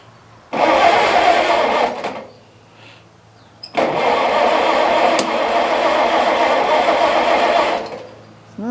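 A neglected 1953 Farmall Cub tractor engine cranks and catches in a loud burst, drops out, then fires again and runs roughly for several seconds before cutting off, close up.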